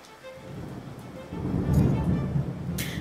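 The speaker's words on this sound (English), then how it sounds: "I can still hear the thunder" Rumbling thunder from a storm swells in the low range midway through and lingers, with a brief brighter crackle near the end, alone without talk.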